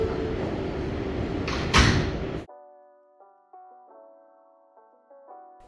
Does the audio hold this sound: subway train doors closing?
yes